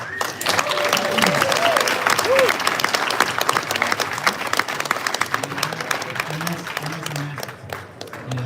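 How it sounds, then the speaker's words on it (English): An audience claps in a continuous round of applause during a live racing podcast, with voices speaking and calling out over the clapping. "Huge round of applause for Toyo"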